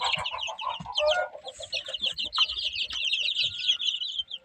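Young chicks being fed cottage cheese and semolina porridge keep up a close, dense stream of high peeping and chirping, with a few lower clucks early on.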